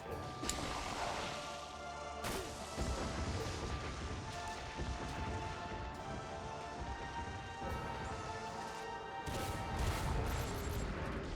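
Grenade explosions in a shooter video game boss fight, a dense, continuous roar of crashing booms and rumbling blasts filling the whole stretch, with a few sharper impacts standing out.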